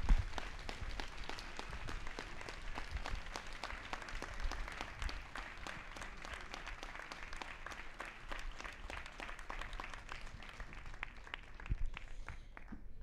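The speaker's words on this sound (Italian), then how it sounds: "vorrei dedicare un applauso" An audience at an outdoor summer band concert by a Giuseppe Verdi musical association gives prolonged applause, individual claps distinct and rhythmic over a steady roar, lasting the whole stretch.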